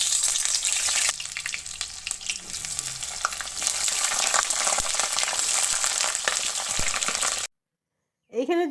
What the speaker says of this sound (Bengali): এরপরে এগুলো ভেজে নেব